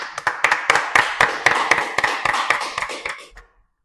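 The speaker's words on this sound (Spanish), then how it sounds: "Demos un fuerte aplauso." A small group claps at the close of a podcast recording, with distinct, close individual hand claps in an uneven rhythm for about three seconds before stopping abruptly.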